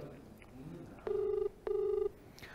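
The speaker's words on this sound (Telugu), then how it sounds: "నిఖిల్ ఫోన్ రింగ్ అవుతుంది." A phone ringing on the line, two long steady ring tones with a short pause between them, heard through a handset.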